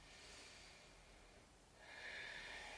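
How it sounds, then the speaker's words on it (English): Slow, deep breathing during a morning yoga flow, a soft breath in followed by a louder, airy breath out, close and alone without talk. "Take a deep breath in and a deep breath out."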